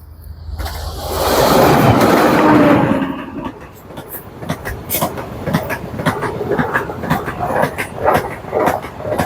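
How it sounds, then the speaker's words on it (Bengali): A fast train roars past close by in rural Egypt, swelling to a loud rush then fading into rhythmic clattering wheels and rattles. "খুবই দ্রুত গতির ট্রেন"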